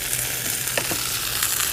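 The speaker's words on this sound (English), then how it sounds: "Listen to the sizzle." Panini of Italian fried peppers sizzling in a hot panini maker, a steady, close crackling hiss that stays loud throughout with faint pops and no talk.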